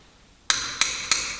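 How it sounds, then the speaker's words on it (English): Four sharp hammer taps on a bicycle's three-piece crankset bottom bracket cup, tightening it into the frame; evenly spaced metallic strikes, close and loud, after a brief quiet start. "couple of taps with the hammer"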